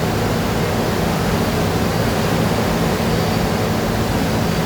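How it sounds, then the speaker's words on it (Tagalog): The flooded Marikina River roars with a strong, rushing current, a dense, loud and steady wash of water that fills the whole stretch without any voices. "rumaragasa po, maingay, malakas ang agos"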